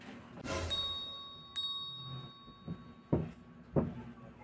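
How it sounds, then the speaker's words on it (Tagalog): A bright electronic doorbell chime rings out clearly with a sustained ringing tone, followed by a few soft knocks and thumps in an otherwise quiet room. "may nag-doorbell"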